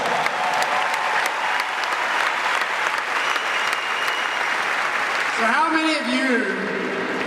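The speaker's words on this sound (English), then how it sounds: "Give a round of applause." An audience at a motivational event breaks into a strong, continuous round of applause filling the room, then a voice speaks as the clapping carries on underneath near the end.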